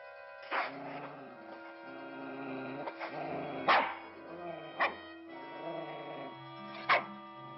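A dog barks sharply four times at uneven intervals, with softer whining and yipping sounds between the barks, fairly close.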